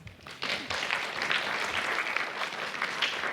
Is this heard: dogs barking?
no